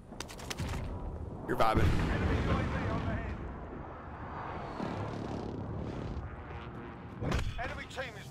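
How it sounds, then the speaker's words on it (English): Precision airstrike explosions in Warzone land as a string of heavy booms and crackling blasts, some sharp and close, with a voice talking over them. "Precision airstrike."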